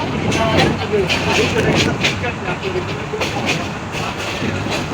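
A train rumbles and clatters steadily along the tracks as it crosses a bridge over the Meghna River near Ashuganj, Bangladesh, with voices talking over the noise.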